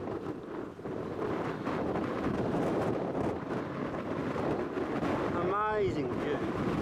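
Strong wind blows across an exposed hilltop lookout, a constant rough buffeting rumble up close, with a voice speaking briefly near the end.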